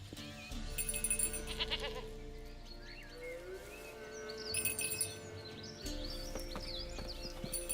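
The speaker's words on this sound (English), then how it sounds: "Here, goat. Here, princess. Hoofed and horned." A goat bleats in The Witcher video game, several short cries rising over a steady background score, with faint chirps of birds nearby.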